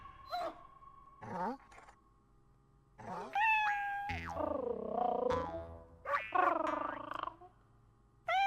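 Cats meow in the video game Okami HD, several separate meows, some short and some drawn out, rising and falling, loud and close, with gaps of quiet between them.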